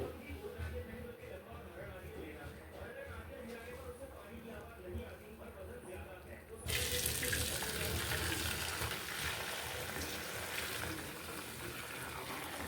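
Boiled madd leaf water from Coorg is strained, with a sudden, steady rush of pouring liquid after a quieter stretch of kitchen background.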